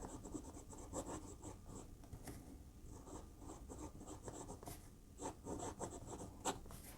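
Moonman N2 fountain pen nib scratching steadily across paper, a faint, close, continuous scratchy writing sound with small stroke bursts.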